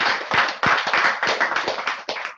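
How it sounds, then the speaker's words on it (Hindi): A small group claps for a team leader at a team success celebration in Prayagraj, close, loud and slightly uneven bursts of hand claps in quick succession, with no voices. "जोरदार तालियां होनी चाहिए सर के लिए।"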